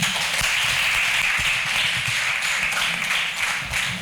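Dense, steady applause from an audience fills the room after a keynote lecture by a professor at an academic women's conference, loud and continuous for about four seconds with no pauses.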